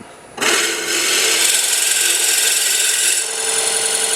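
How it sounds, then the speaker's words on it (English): A drill grinds steadily into wood for a napkin ring at close range, a loud rasping whir that starts abruptly and holds for several seconds. "Watch how much shoulder we have left when we start drilling this out"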